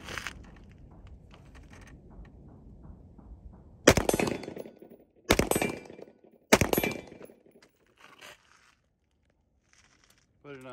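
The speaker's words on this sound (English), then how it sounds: "We're going to do 3 rounds with the brake only" Three sharp rifle shots ring out through a Strike Industries muzzle brake, evenly spaced over a few seconds, each a loud crack with a brief echoing tail, after quiet handling sounds and low background noise.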